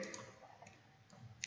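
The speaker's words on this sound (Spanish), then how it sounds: "entonces hacemos clic en OK" Single mouse click on the OK button in PSPP statistics software, a sharp faint tick near the end of a quiet stretch with soft room hiss and a few faint clicks before it.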